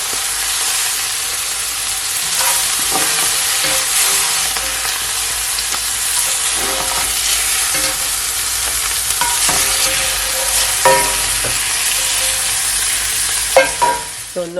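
A sautéed filling sizzles steadily in a frying pan while being stirred, with continuous close frying hiss and occasional scraping taps of the utensil.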